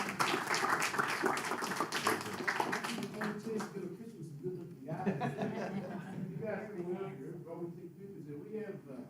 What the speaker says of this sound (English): we want to give you guys a round of applause